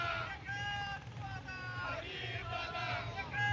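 Party workers celebrate at Bhigwan Chowk in Baramati, a dense crowd roar of overlapping shouts and cheers that runs steadily throughout, with chanting voices rising and falling over a low rumble.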